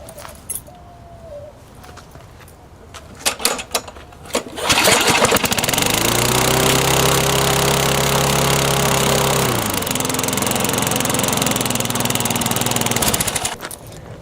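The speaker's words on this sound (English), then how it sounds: "It's more about just listening to the engine run." A lawn mower engine starts up after some clicks and handling noises, then runs steadily and loud nearby for several seconds before the pitch drops slightly and the engine shuts off.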